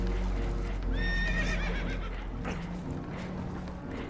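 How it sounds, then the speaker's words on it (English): Spooked horses neigh in the Red Dead Redemption 2 video game, a shrill whinny rising over a loud rumbling background, with scattered hoof clatter and faint voices nearby. "Horses are spooked"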